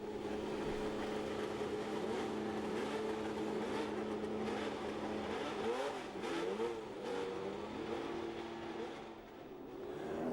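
1972 Formula One race cars heading out to practice on a fast Grand Prix circuit, a continuous engine drone with rising and falling revs as cars accelerate, steady and moderately close.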